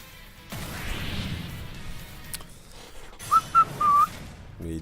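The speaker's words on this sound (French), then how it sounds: "Je sifflote souvent alors que je sais pas bien siffler du tout, mais j'oublie le micro." A person whistles a brief, wavering tune of a few sustained notes over the clatter, whooshes and smashes of a Super Smash Bros. Ultimate fight.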